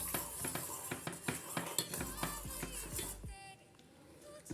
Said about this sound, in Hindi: अब इसमें हम डालेंगे लौंग का पाउडर, इसको भी मिक्स कर देंगे।